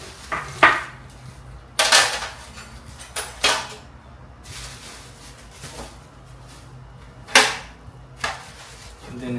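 Metal tray and grill rack of a new Hanabishi electric oven being handled during unboxing, producing several sharp clanks and rattles spaced irregularly, close and fairly loud against a quiet room.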